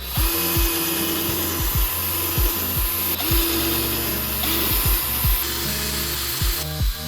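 A power drill whirs in repeated short bursts, each spinning up and winding down, drilling lace holes in a Jordan 1 shoe, close and loud, with no talking.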